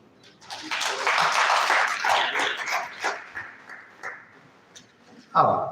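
Audience applause at a year-end get-together, a sustained round of clapping that swells then tapers over several seconds, with scattered voices mixed in and a brief louder burst near the end.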